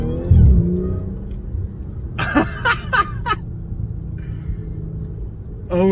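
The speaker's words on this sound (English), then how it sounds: "see if we can hear a difference in the supercharger whine now" An Audi S5 fitted with a carbon intake accelerates in first gear, its supercharger whine rising over a steady engine rumble, with a brief burst of voice partway through.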